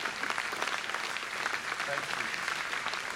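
Concert audience applauding steadily at a folk band's closing set at Abbotsbury festival, dense continuous clapping throughout, with a brief spoken thanks over it.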